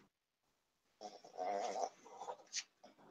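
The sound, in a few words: dog sniffing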